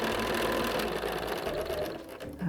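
A sewing machine stitches a seam on a star quilt block. The motor whirs steadily and loudly for a couple of seconds, with no voices over it.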